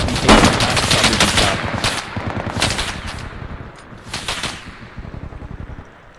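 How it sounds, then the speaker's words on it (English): Rapid machine-gun bursts and gunfire in the video game Bellum, loud and close, with dense rattling volleys fading in and out over several seconds and no talking. "Alpha, when you're ready, just start firing"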